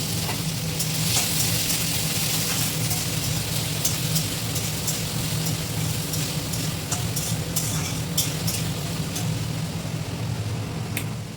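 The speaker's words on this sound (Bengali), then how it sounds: "এদিকে আমি ঘুগনি বসিয়ে দিয়েছি" Ghugni, a curry of soaked and boiled dried peas, sizzles steadily in a pan on a home kitchen stove, a continuous close frying hiss with faint scraping of stirring throughout and no talk.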